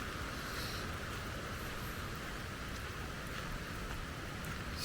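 Rain falling in a forest, a steady, dense hiss of drops with no pauses, fairly faint and even throughout, with no voices.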